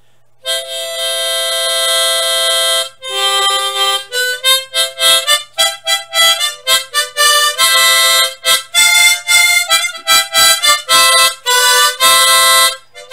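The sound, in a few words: tremolo harmonica single hole note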